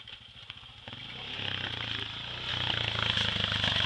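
A 350 motorcycle engine revving hard, a buzzy rising drone that grows louder in two surges as the rider pushes it, with a faint voice in the background.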